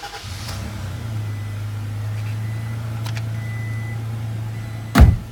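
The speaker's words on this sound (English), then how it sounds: "Just wanted one more crank there to start up." A 2017 Toyota Tacoma SR5 V6 access cab truck idles in a steady low hum after starting, with a brief light click partway through and a loud burst near the end, close and alone with no talk.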